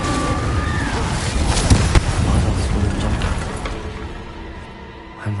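Incendio and Confringo fire and blast spells cast in Hogwarts Legacy, a dense crackling roar of magical bursts with a sharp pop near the middle, fading toward the end, with no talking over it.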